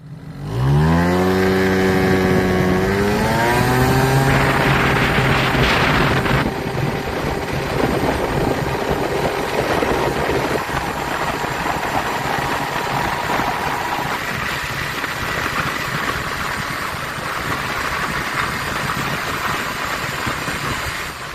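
An Adly RT50 50cc scooter engine fitted with new variator weights revs up sharply from idle to a loud, high-pitched buzzing drone. It holds near full revs with slight shifts in pitch, close by.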